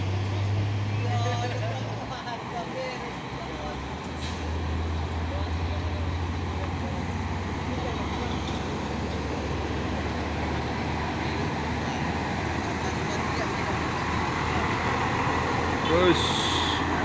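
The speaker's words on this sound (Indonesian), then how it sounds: "Truk Fuso Super Grid." Fuso Super Great truck driving past, a low engine rumble and road noise that holds steady, with a voice talking over it.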